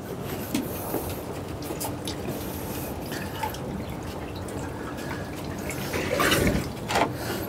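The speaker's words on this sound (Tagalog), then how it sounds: "Lagyan pa natin ng tubig." Water poured into a container outdoors, a soft steady trickle and splash at moderate distance, swelling briefly louder near the end, with no talking over it.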